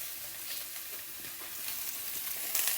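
Capsicum and white sesame seeds fry in a pan with a steady, close crackling sizzle that continues evenly throughout, with no voices.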